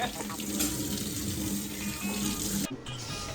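Water running steadily from a kitchen tap in a bachelor's home, a continuous close splashing stream that cuts off abruptly near the end, then resumes more faintly.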